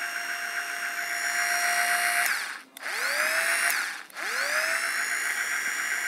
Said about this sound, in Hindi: ड्रिल मशीन चला सकते हैं और उससे अच्छा खासा वर्क कर सकते हैं।